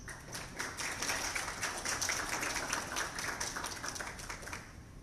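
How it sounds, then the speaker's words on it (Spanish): Audience applause at a journalists' event in El Salvador, a sustained patter of many hands clapping, moderately loud and even, fading slightly toward the end. "por quien también agradeceré un aplauso"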